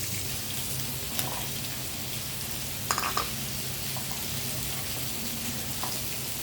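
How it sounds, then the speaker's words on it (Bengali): Fish fries in oil beside pointed gourd cooking in a second pan, a soft, even sizzle throughout with a couple of faint utensil clinks. "এই পাশে মাছটা ভেজে নিচ্ছি আর এই পাশে আমি পটলটা কষিয়ে নিই"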